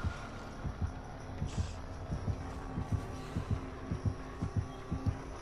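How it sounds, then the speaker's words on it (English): A slow, ominous heartbeat from a video game thumps in low double beats, a steady rhythm over a faint hum, moderately quiet and without talk. "I hear a heartbeat. A scary heartbeat!"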